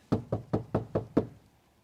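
Knuckles rap six times in an even rhythm on a Mazda Miata car door fitted with a DEI insulation door kit, each knock dull, close and clearly separated.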